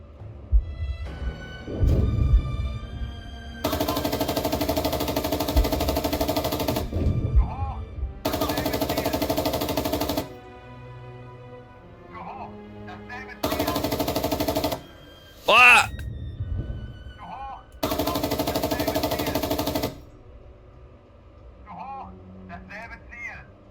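Machine gun fire in the tank game GHPC, heard as several loud sustained bursts lasting a few seconds each, separated by quieter stretches with scattered battle sounds, plus one sharp whistling shot.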